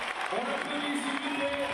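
A crowd at the Paris 2016 AL2 world championship cheers and claps for a French athlete coming onto the stage, a steady roar of applause with voices mixed in.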